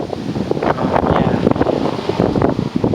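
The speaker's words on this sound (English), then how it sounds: "it's getting windy out here." Strong wind gusts buffet the microphone outdoors, a loud, rushing roar that swells and dips continuously.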